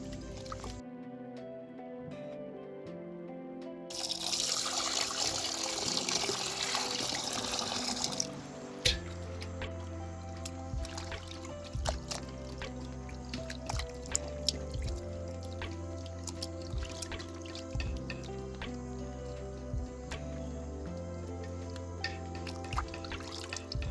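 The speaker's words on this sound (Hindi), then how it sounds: "चूस्ता की ऊपरी साइड को धो लेंगे। इसके बाद इसे पलटने के बाद फिर से धोएंगे।" Mutton chusta (tripe) is rinsed under running water, a steady trickle and splash with wet squishing as it is handled, heard over a continuous background music bed.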